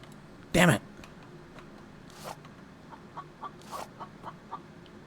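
A white chicken in a survival video game clucks in a short series of soft, scattered calls after one loud, sharp burst, heard against a quiet outdoor background.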